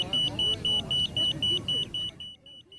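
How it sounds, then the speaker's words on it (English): Repeated electronic beeps from Easter eggs built for visually impaired children to locate by sound, pulsing in a steady rhythm of about eight short tones over low background crowd noise, then fading and thinning out toward the end. "Children honed in on the beeping to find the eggs, which were exchanged for treats."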